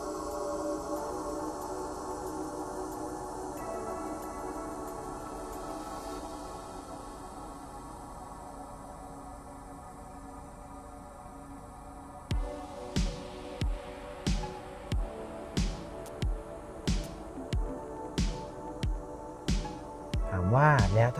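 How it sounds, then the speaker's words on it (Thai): Volvo EX30 Extended Range electric car cabin playing its Northern Lights ambient soundscape: a soft sustained hum and wash of tones, later joined by a steady series of bright, evenly spaced chime-like pulses near the listener. "อันนี้เป็นเสียงของแสงเหนือนะครับ"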